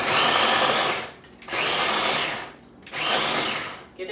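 A kitchen appliance chops red onion for a couscous salad in three loud, whirring bursts of about a second each, separated by short pauses, close and with no talk.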